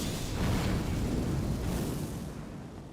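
An explosion striking enemies in the video game Elden Ring: a broad, rumbling blast that swells early and slowly fades, heard alone without talk.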